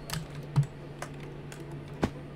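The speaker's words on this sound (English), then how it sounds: "how loud your keyboard is" A computer keyboard clacks in a handful of sharp, spaced keystrokes over a low steady hum, heard through a voice chat microphone during an online gaming session.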